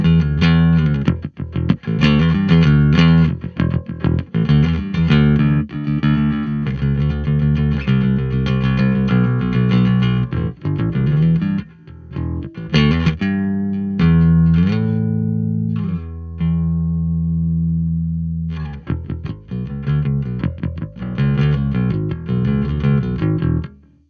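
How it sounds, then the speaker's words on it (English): Distorted bass guitar riffs played through a Vox SB 50 Superbeetle bass amp, miked with an SM57, thick and gritty, with sustained low notes and short pauses between phrases. "the gain around that sort of level, so you get some kind of distortion"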